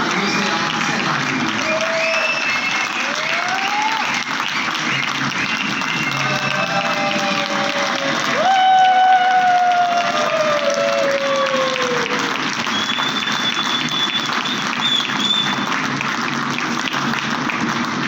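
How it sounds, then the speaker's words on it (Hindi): Loud, sustained applause from a crowd at a sales training session honoring an award recipient, with tonal music sweeping underneath and a swell in the middle. "जोरदार तालियों से आपकी सराहना"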